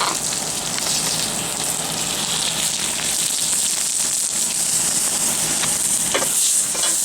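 Sizzling and hissing of NY strip steak fat rendering on a grill at the highest heat, a steady broadband crackle running without pause.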